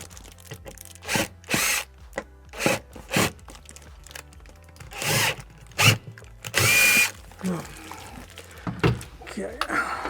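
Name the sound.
power drill drilling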